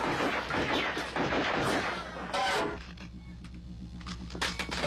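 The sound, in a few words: gunshot sound effect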